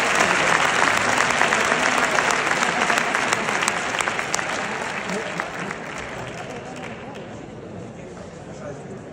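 Dense audience applause at a longevity and health conference in Madrid, loud and close at first, then gradually softening as the clapping dies away.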